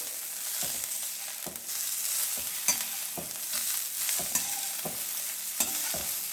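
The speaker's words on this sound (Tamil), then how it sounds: "இப்போ இந்த சூட்லேயே வறுத்துடுறேன்" Fresh coriander leaves roasting in a hot pan with the heat switched off, making a continuous soft crackling sizzle broken by regular spatula scrapes and taps, close by and without talk.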